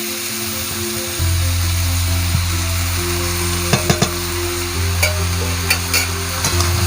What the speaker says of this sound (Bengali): বন্ধুরা কাঁকরোলটা ভাজা ভাজা হয়ে এসেছে। মা এবার মাছের ডিম ভাজাটা দিয়ে দিচ্ছে।